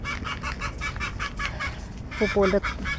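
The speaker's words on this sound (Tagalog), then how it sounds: "Yung mga manok. Takbo!" Several chickens cluck and squawk close by in quick repeated bursts, with a louder flurry of calls near the end.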